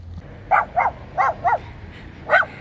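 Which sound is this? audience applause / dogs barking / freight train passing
dogs barking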